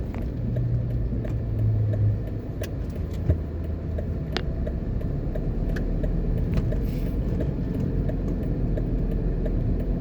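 A car driving slowly through a quiet shopping plaza in Jamaica, a steady low engine and road rumble from inside the cabin with a few faint clicks and rattles, no talk.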